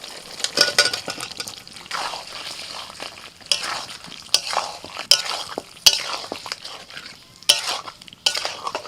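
Fried potatoes sizzle in hot oil with spices while a utensil scrapes and clinks against the pan in irregular stirring strokes, fairly close.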